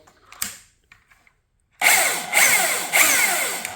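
A Milwaukee M18 cordless chainsaw whirs up from near silence after a few faint clicks, then runs loud and close with its electric motor whine and chain rattle, revving in two or three surges.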